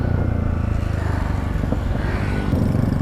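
A motorcycle rides fast along a road with a GoPro 10 mounted, its steady engine drone and rushing wind loud and close throughout, with no talking.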